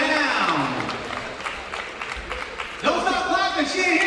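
An audience claps at a high school college signing day, with steady applause filling the room while voices cheer and talk loudly over it.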